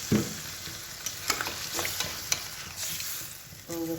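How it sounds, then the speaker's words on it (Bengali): Water goes into a pan of prawn curry, and the frying mixture sizzles steadily up close with stirring scrapes and small crackles throughout. "এবার একটু জল ঢেলে দিই অল্পই জল দেবো খুব বেশি ঝোল দেবো না"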